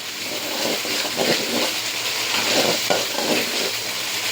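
Koi fish curry cooking in a pan with fried potatoes added, giving a steady sizzle with scraping stir strokes throughout, moderately loud and close, no voices.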